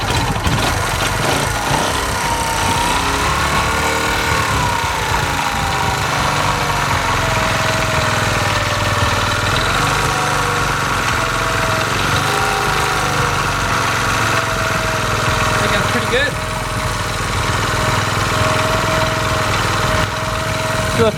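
A Honda CT110 postie motorcycle engine idles steadily after a carburetor clean, a constant throbbing rumble with slight wavering pitch, close and loud, with no voices.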